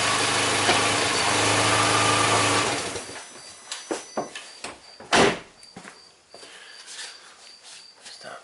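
The door of a 2003 VW Jetta, one with a stall and no-start fault, shuts with a solid thump. A steady engine-like hum runs first, then stops, and a series of close clicks and knocks follows.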